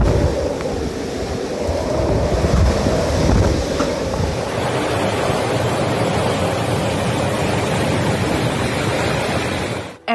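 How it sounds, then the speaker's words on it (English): Cyclone Gabrielle battering Norfolk Island, Australia, with gusts up to 140 km/h: loud, continuous roaring wind buffeting the microphone over heavy surf, a constant rushing wall of noise that cuts off abruptly at the end. "Cyclone Gabrielle approached with wind gusts of up to 140 km per hour"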